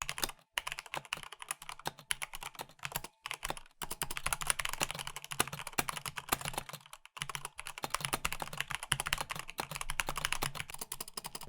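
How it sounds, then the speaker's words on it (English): Rapid, continuous typing on a Corsair K70 Mark II Special Edition keyboard with Cherry MX Speed switches, a dense stream of close, crisp key clacks with a few brief pauses. "For my keyboard, I have the Corsair K70 Mark II Special Edition with Cherry MX speed switches."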